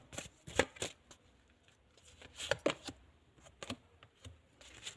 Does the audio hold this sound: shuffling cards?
yes